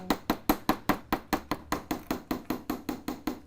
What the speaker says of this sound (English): I will hammer the whole thing if I can.